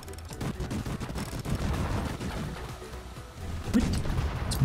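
Battleship guns fire in a naval video game, a dense run of booming shots and crashing impacts rolling over one another, loud and continuous.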